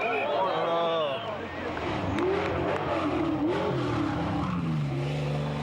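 A Porsche rally car's engine roars onboard, revving up and down through gear changes with bursts of acceleration and tire noise, loud and close, while a voice speaks over parts of it.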